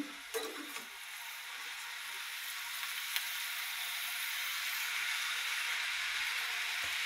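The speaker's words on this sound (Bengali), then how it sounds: "মশলা কষতে থাকো।" Spices frying in oil in a pan for a home-cooked Bengali meal with red spinach: a steady, close hiss of sizzling that builds slightly over several seconds, with a few soft stirring knocks near the start.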